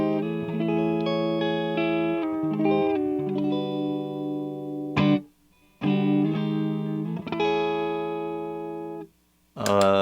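Clean-toned Squier Vintage Modified Cabronita Telecaster electric guitar on the neck pickup, without reverb or delay, playing sustained chords and single notes in a few phrases separated by short pauses, close and clear.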